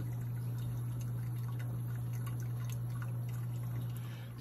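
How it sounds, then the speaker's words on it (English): Faint trickling and dripping of water through coffee grounds into a pot, soft irregular drips over a low steady hum, quiet and close. "you can hear the water dripping as it goes down through the grounds and into the"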